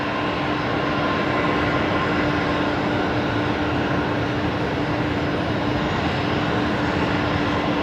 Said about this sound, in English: Right, we'll turn around and pick that up after this departure.